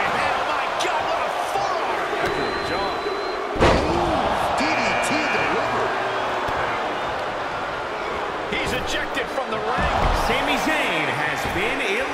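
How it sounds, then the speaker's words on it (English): Shoulder tackle slam in the WWE 2K22 wrestling game on PS5 during a Royal Rumble match: a heavy body impact thuds onto the mat amid crowd noise, with further bumps and thumps while a commentator keeps talking throughout. "Dominating shoulder tackle."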